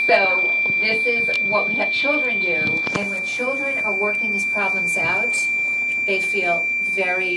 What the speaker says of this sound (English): I think that's the alarm.